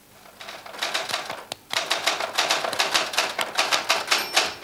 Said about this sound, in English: Try tapping a regular beat in time with the typewriter.